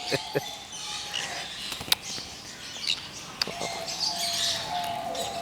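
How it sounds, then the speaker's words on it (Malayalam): Sharp, high conure parrot squawks and chirps at irregular intervals, close by, over a soft background hum. "കൊനൂർ എന്നാണ് ഇതിൻ്റെ ഒരു കൊനൂർ"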